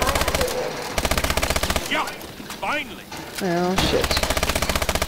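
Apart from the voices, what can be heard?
machine gun fire in ExoZombies video game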